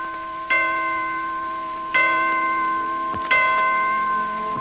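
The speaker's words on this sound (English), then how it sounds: "As the clocks in Detroit chime 4," Clocks in Detroit chime four o'clock on an old radio broadcast, giving three loud, resonant bell strokes about 1.4 seconds apart, each tone ringing and slowly fading into the next.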